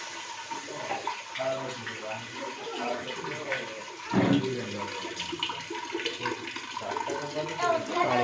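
Water filling a container: a steady, rushing gush of water pours continuously nearby, loud and unbroken, with faint voices in the background.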